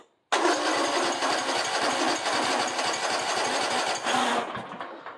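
A zero-turn mower engine bursts into life and runs with a loud, fast, buzzing rhythmic chatter for about four seconds before tapering off.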